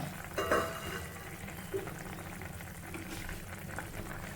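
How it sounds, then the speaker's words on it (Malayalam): Chicken curry simmering on a low flame in a clay pot, giving a soft, continuous bubbling sizzle with a few brief stirring scrapes near the start; quiet and close, with no talking. "ഒരു പത്ത് മിനിറ്റ് ചെറിയ ഫ്ലെയിമിൽ കിടന്ന് വേവട്ടെ"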